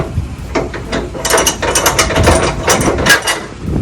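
A ratchet strap securing a truck load is tightened, rapid repeated mechanical clicks in close bursts, loud and alone without talk.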